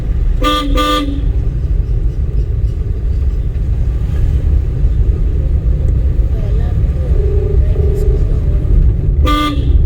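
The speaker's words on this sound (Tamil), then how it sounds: "ஹாரன் இப்போ அடிக்கணும்" A car horn honks in short double bursts at the start and once more at the end during a driving lesson, over steady engine rumble and traffic noise.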